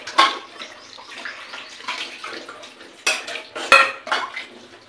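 Guavas being rinsed a few at a time in water in a metal pot, with sloshing water, knocks and clinks against the pot, and a couple of louder splashes and clatters up close.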